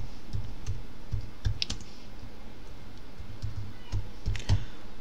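Rapid clicking of computer keyboard keys, typed in short irregular bursts with brief pauses, close and fairly clear over a faint background hiss, with no talking.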